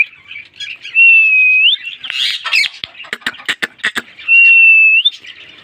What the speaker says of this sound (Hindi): मिट्ठू तोते से आए बातें करते हैं यार